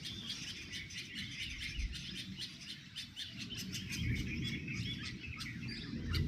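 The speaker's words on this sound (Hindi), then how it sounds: "देखिए दोस्तों, बहुत सारे पैराकीट उड़ के जा रहे हैं, अभी झुंड के झुंड शाम के टाइम पे।" A flock of parakeets flies past at dusk near Ranthambore, their shrill, rapid chirps repeating densely throughout, fairly close over a low rumbling background with no speech.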